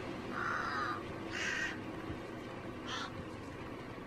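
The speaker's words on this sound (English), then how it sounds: "How close I can get to the birds" Crows cawing in a few short bursts on a road in the game Hunt: Showdown, set against a steady ambient background.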